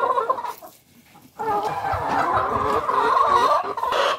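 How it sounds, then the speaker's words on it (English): Backyard coop chickens cluck and squawk close by, a burst of fowl calls, a short pause, then a denser, continuous run of clucking and chattering with no talk. "Chick, chick, chicken. See? Yay! Good chicken."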